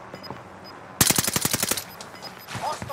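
Rapid automatic gunfire in an online shooter game erupts suddenly at close range, a tight burst of about ten shots followed by scattered sounds.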